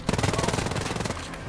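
Rapid automatic gunfire rattles in a dense, continuous burst during a Wolfenstein: Youngblood firefight, loud and close, with the shots tapering slightly near the end.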